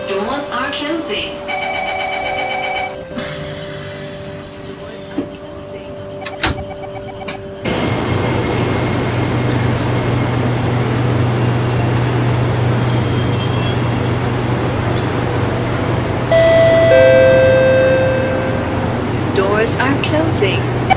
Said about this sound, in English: The train doors are about to close.